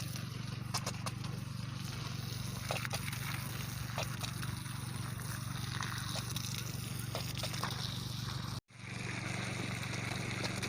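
Water pours steadily over sponge gourd (oyong) plants in a dry-season garden, a continuous rushing stream with a low steady hum beneath, briefly cutting out near the end before resuming.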